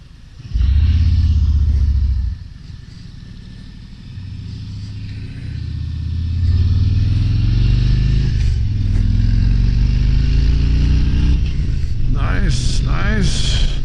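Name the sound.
Harley-Davidson 2023 Road Glide Special motorcycle riding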